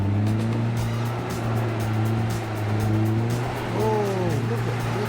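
Rick's 40 four-wheel drive with a limited-slip differential climbs a hill, its engine a loud, steady drone that swells and eases as the load changes, with rising whines near the end and faint voices in the background.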